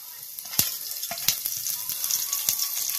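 Fenugreek and cumin seeds hit hot oil for a Tamil karunai kizhangu puli kulambu, giving a steady close hiss with a few sharp crackling pops.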